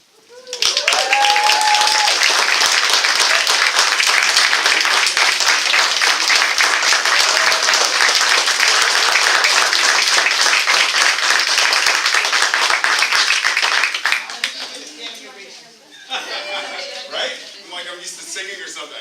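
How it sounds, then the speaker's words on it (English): A church congregation welcoming a new minister breaks into loud, sustained applause that fills the room for about fourteen seconds, then dies away into scattered claps and murmuring voices. "and then the claps come"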